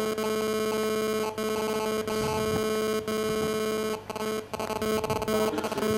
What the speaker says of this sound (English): I think these are alarms, engine room alarms.